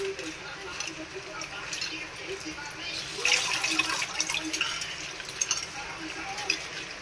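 Running tap water splashes steadily as food is rinsed beneath it, with a continuous hiss and occasional louder spatters.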